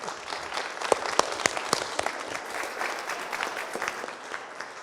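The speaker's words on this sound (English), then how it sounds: "So let's give Laurel a nice round of applause." Audience members applaud Laurel Austin before her illustration and concept art demo, with sharp individual claps standing out early over a steady bed of clapping that fades slightly.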